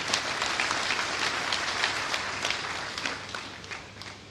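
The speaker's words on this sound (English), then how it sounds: "Can we give them a round of applause?" Steady applause from an audience at an induction ceremony for new members, a dense even wash of many hands clapping at moderate distance, sustained throughout without a clear break.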